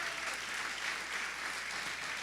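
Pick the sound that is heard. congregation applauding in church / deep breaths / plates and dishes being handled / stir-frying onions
congregation applauding in church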